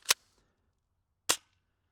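Two sharp airsoft gun shots fire BBs at an outdoor target, each a crisp isolated crack about a second apart, close and loud with silence between.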